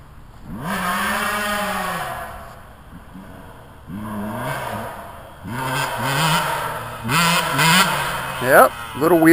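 A Husqvarna TC125 two-stroke dirt bike engine revs in rising and falling pitch sweeps during wheelie practice, growing louder and busier toward the end, with a voice briefly heard.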